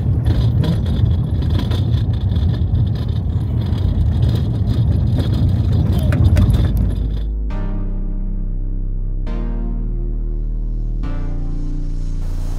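A car crawls along a rough, unpaved off-road mountain road between Pokhara and Jomsom in Nepal, giving a loud rumble with rattling bumps and clatter for about seven seconds. The noise then gives way to steady, sustained tones.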